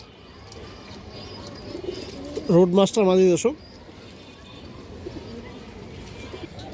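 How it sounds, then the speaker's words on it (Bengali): Pigeons coo in a short, close burst of soft throaty notes in the middle, with someone talking before and after, in a loft of pigeons for sale that includes throated breeds and a hen. "অনেক সুন্দর একটা মাদি কবুতর"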